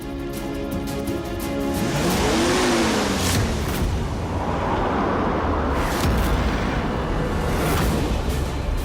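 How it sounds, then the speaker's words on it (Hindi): Car racing in fast at night, a loud roaring engine rising and sweeping closer with broadband road rush throughout and a brief pitched whine, steady and intense with no talking. "ये कौन पागल है जो इतनी रात को इतनी तेज गाड़ी चला के आ रहा है?"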